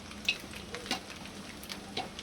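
Food being stirred and sautéed in a pan so it does not stick, heard as a soft continuous sizzle with a few light scraping clinks of the spoon, close and fairly quiet, with no voice.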